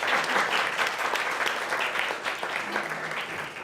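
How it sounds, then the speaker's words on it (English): Audience at a New York high school poetry awards event applauding a winner, a full, sustained round of clapping from many people indoors, steady and fairly loud with a faint voice or two beneath it. "Let's give a warm round of applause for Isabella McIlvaine"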